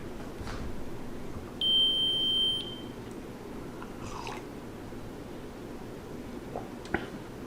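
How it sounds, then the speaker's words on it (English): A single steady electronic beep from a Roost smart leak detector lasts about a second in a quiet room, with a few faint clicks and handling noises around it. "Wait for the beep."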